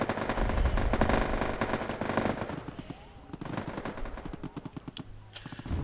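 T-72 tanks fire in the Wargame AirLand Battle strategy game, dense loud rattling gunfire and booms that thin into spaced, rhythmic shots.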